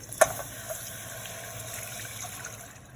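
Warm milk pours from a measuring cup into a cooking pot, opening with a sharp clink and then a soft, steady trickle of liquid, close by and quiet, with no talking.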